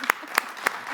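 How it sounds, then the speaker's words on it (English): Audience applause for a panel of speakers at an EU budget policy discussion, heard as four distinct sharp claps spaced evenly about a quarter second apart, fairly close and moderately loud with no talking. "I think they deserve applause"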